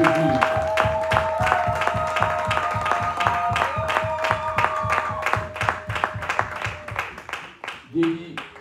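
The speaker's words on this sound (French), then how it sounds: "Acclamons pour Jésus." A church congregation claps in a steady rhythm, moderately loud and continuous, with a faint tone sustained underneath and voices briefly at the end.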